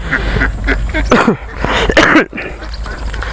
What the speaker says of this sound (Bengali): ক্যাম্বেল হাঁস আর কি।